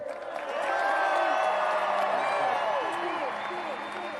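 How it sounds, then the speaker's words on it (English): Indoor arena crowd at a Milwaukee Wave versus St. Louis Ambush pro soccer match cheers and applauds loudly and steadily, with whoops and a murmur of voices mixed in. "Keep cheering us on, loud and proud."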